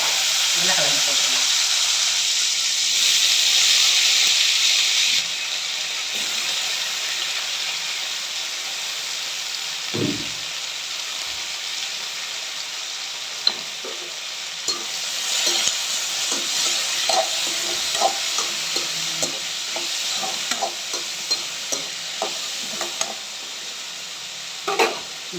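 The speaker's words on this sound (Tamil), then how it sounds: "கடுகு பொரியட்டும். கடுகு பொரியவும் நம்ம உருளைக்கிழங்கு போட்டுக்கலாம்." Mustard seeds crackle and pop in hot oil in a kadai with potatoes, a steady sizzle carrying scattered spluttering bursts and occasional stirring scrapes, close and fairly quiet.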